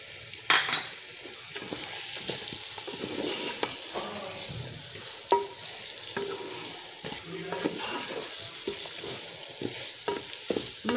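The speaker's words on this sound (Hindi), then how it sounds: "और साथ ही हम डाल देंगे इसमें साबुत कुटा हुआ धनिया।" Keema sizzling and frying in a pan as crushed whole coriander goes in, with steady crackle, scraping stir strokes and occasional clinks of a spoon against the pot, close and without talk.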